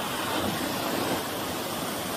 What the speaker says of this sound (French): Cascade du Pilet.